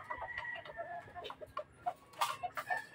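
Fighting roosters about two years old, sheltered from the rainy-season weather at feeding time, give close clucks and short sharp calls in an irregular scatter, with no talk.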